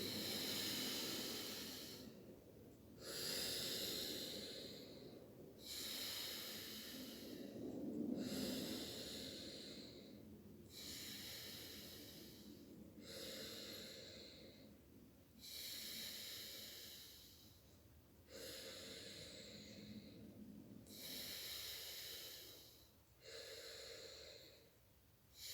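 A person practicing alternate-nostril breathing in Kundalini yoga takes slow, airy breaths through the nose. About ten long inhales and exhales follow each other in an even rhythm with brief pauses between them. Each breath is close and soft.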